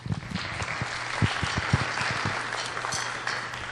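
A school concert audience applauds steadily, a dense patter of clapping hands with a few sharper claps standing out, sustained throughout.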